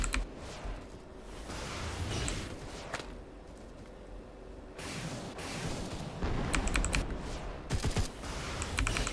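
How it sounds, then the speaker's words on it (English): Enemy gunfire in Ark Survival Ascended, bursts of sharp shots coming in clusters with quieter stretches between, moderately loud against a busy game background. "Oh, they're trying to shoot me."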